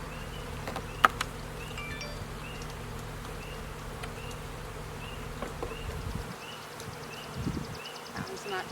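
Honeybees buzz steadily around an open hive during an inspection, a dense close drone throughout with occasional clicks and rustles from handling the frames.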